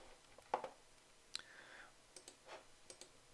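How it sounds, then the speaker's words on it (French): A single crisp mouse click lands on a PowerPoint navigation button, followed by a few fainter clicks and ticks in a quiet room. "si je clique sur ce bouton là ça doit m'ouvrir la slide numéro 5"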